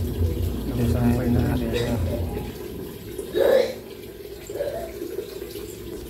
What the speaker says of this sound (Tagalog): Lilipat ko siya dyan sa may langganan malaki kasi babanlawan ko siya.